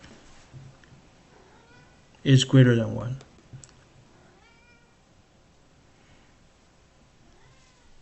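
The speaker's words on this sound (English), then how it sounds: "That's my cat." A pet cat meows once, close and clear, a brief drawn-out cry in a quiet room, with someone talking softly before and after and faint clicks around it.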